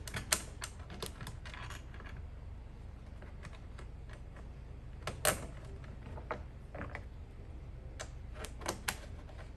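Parts of a QSR kiosk quick-release case being assembled and screwed together: irregular sharp clicks, taps and rattles of hardware close by, with a few louder knocks scattered across the stretch and no talking.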